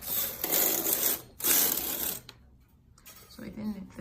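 A knitting machine carriage slides across a row with two brief whirring, clicking passes, followed by softer mechanical handling sounds, all fairly quiet and close.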